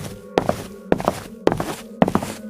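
Footsteps upstairs in a horror story sound effect land as four slow, evenly spaced heavy thuds, each a dull knock with a short woody ring, close and alone without any voices.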